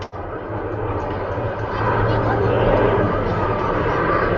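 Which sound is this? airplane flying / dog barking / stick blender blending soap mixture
airplane flying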